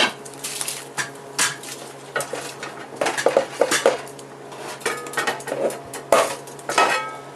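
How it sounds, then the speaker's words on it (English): Brown rice goes into a pot of boiling water for a chicken biryani, with clattering of metal pots, utensils and stirring in a kitchen, irregular clinks and scrapes at close range, no talking. "Let's add the brown rice to the water."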